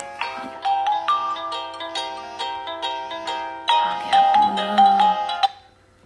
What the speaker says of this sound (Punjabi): ਆ ਗਿਆ ਫੋਨ